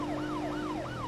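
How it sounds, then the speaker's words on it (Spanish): A police siren in the BeamNG.drive driving game wails in repeating rising-and-falling sweeps, about three cycles, loud and continuous with no talk over it. "Ya empezamos otra vez con la sirena."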